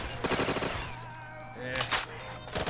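Carbine gunfire in a zombies video game, a rapid rattling burst of shots mixed with game effects and music, followed by a few more sharp reports, under brief talking.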